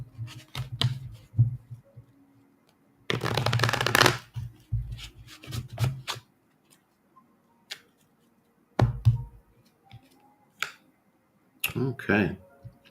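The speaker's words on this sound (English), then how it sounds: "So I'm gonna give my deck a quick shuffle." A deck of cards is shuffled up close in several quick riffling bursts, crisp fluttering rattles separated by pauses and small clicks, with brief talk now and then.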